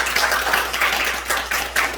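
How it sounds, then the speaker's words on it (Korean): A church audience applauds for the teachers: a steady, moderately loud round of clapping with slight pulsing swells that continues without pause for the whole stretch. "우리 교사님들에게 박수 한번 할까요?"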